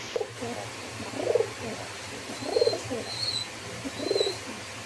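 Female Giribaz and Rajgolla pigeons coo from inside a cage, three soft rounded coos spaced a little over a second apart over a steady low hum, with faint higher chirps between them.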